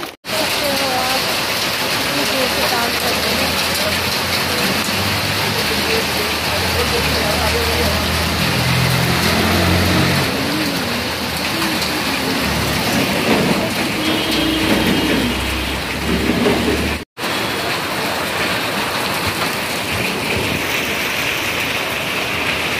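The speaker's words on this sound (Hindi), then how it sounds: "तो झमाझम बारिश हो रही है" Heavy rain pours down on a school-pickup outing, a steady loud wash of hiss and patter with some traffic rumble, lasting throughout under faint voices.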